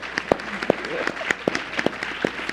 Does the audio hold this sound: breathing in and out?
no